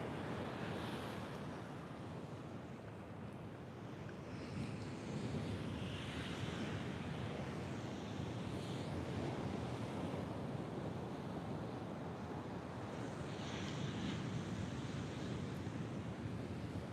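Waves wash continuously on an empty Convent Beach while wind buffets the microphone, producing a steady, broad roar with no voices.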